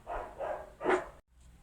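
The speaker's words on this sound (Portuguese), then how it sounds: "Desculpa o barulho dos cachorros aí" Dogs bark three times in quick succession nearby, moderately loud, the last bark the strongest, followed by a short silence.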